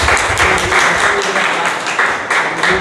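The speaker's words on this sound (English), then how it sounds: "can we have a round of applause for that?" Round of applause from attendees at a Toastmasters club meeting, steady dense clapping from a group filling the whole moment, fairly loud and close, with no talking over it.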